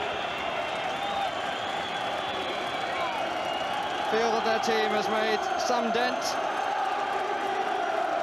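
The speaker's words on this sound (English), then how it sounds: "the crowd very anxious for the final whistle" A football crowd at Spurs v Liverpool waiting for the final whistle keeps up a steady distant roar and murmur, with a few brief whistles and shouts, while a commentator talks over it.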